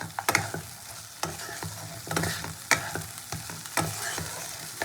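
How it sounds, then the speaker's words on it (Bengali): Spice masala with fried potatoes being stirred and cooked down in oil in a pan, with repeated scraping clatters of the spoon over a steady close sizzle, no voices. "এবার সব উপকরণ কিন্তু খুব ভালো করে কষে নিতে হবে"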